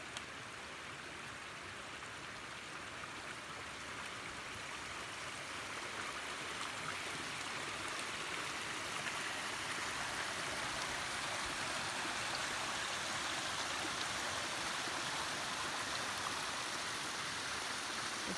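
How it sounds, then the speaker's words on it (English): A stream and waterfall on an Isle of Mull hillside walk rush steadily and close by, a continuous broadband wash of flowing water with no voices. "And this waterfall down here, this stream is absolutely gorgeous."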